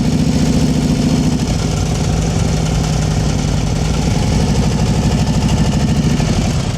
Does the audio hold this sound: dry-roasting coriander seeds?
no